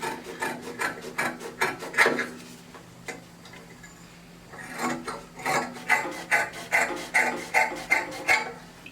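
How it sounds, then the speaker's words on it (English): Scissors cutting fabric for the back neckline of a half butterfly bubu dress, heard as close, crisp snipping strokes in bursts with a short quiet pause in between and faster rhythmic snips toward the end. "Cut our back neckline."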